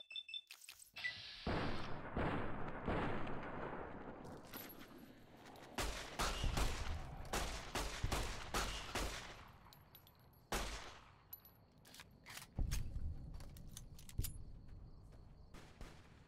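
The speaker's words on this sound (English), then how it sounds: "Somebody shooting at me." Gunfire rings out in Fallout: New Vegas as sharp, loud shots crack in irregular clusters, some quick rapid volleys and some single reports, with brief gaps of quieter ambience between them.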